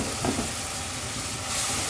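Sizzling and frying as strained mustard paste goes into onions cooking in hot oil, a steady close hiss with soft stirring and no talk.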